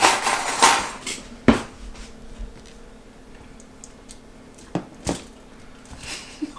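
A fork and dishes are handled in a kitchen, with scattered sharp clinks and taps of metal on ceramic, a few louder knocks spaced across otherwise quiet moments.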